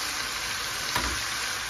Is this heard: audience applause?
no